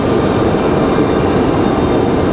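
A FedEx feeder aircraft taxiing at Raleigh Durham International Airport produces a loud, steady engine drone with a broad roar that holds even throughout, without speech.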